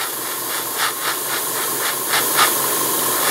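Steady airbrush hiss blowing plain air to dry paint on miniature models, a continuous close breathy rush with a few brief puffs swelling in and out.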